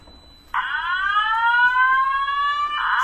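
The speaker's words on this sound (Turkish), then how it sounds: "Alarm veriyoruz." A loud fire alarm tone from an aerosol fire suppression system, triggered by a manual test button, starts abruptly and holds steady, a continuous sweeping siren-like wail that fills the rest of the clip.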